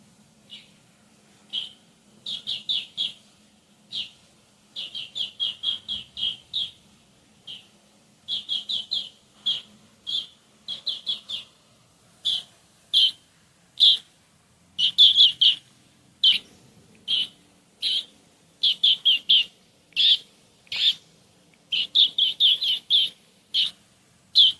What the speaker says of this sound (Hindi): मुझे कंफर्म हो गया है कि ये ग्रीन बीटर की आवाज़ परफेक्ट आ रही है।